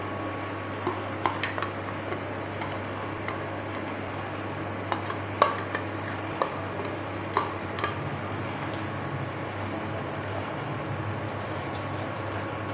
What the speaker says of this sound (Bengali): তালের পাকটা দিয়ে দেবো